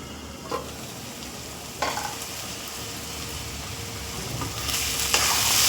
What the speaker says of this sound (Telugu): వన్ మినిట్ తర్వాత బాగా మిక్స్ చేశానండి